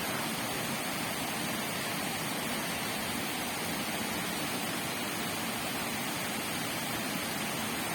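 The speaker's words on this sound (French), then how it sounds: "d'accueillir par le son de cette cascade" A waterfall cascading in a constant, even broadband rush of water that holds steady throughout with no voices or breaks.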